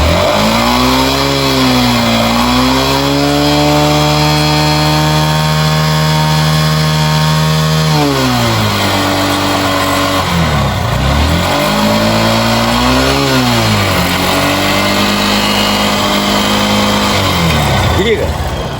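A Honda Crosser 150 motorcycle with an engine fault idles loudly up close, then revs up and drops back several times, a rough mechanical noise running under the steady engine tone.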